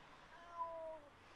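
A cat in the horror video game Simulacrum gives one short, clear meow, with a slightly drawn-out rising and falling tone over faint background hum.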